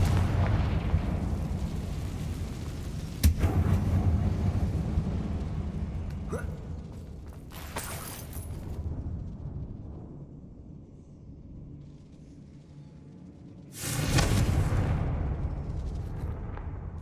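Confringo spell blasts in Hogwarts Legacy: several loud booming explosions, spaced seconds apart, each followed by a rumbling decay that fades between the hits.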